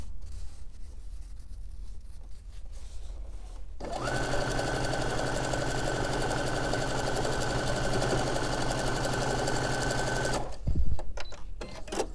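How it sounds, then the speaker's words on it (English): A sewing machine stitches a seam in one steady, continuous run of several seconds. Its rapid mechanical whir is close and sharp against a quiet room. "now I'm just going to start sewing about a ½ inch or so before I ended it"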